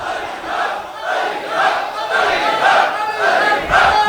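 A crowd at a Muharram majlis in an imambargah chants a religious slogan in unison, loud rhythmic voices rising and falling in repeated waves close by, with no separate speaking voice.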